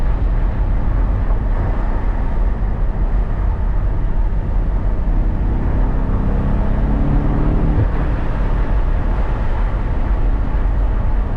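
A vehicle driving hard in two-wheel drive, a loud continuous low engine roar with rising harmonic whine in the middle, steady and close throughout with no talk.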